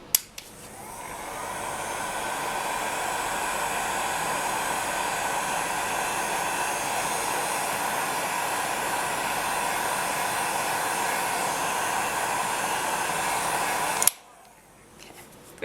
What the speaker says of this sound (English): I'll just use a heat gun quickly